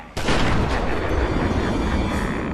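Sustained heavy gunfire from the Joker roars in Batman: Return to Arkham Asylum, starting abruptly after a short quiet moment and staying loud and dense throughout as a booming barrage.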